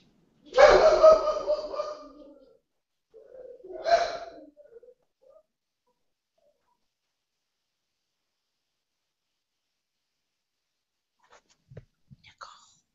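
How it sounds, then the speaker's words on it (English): Dogs bark loudly and close by in two separate bursts early on, then everything falls silent, with a few faint sounds near the end. "Do you hear the dogs barking?"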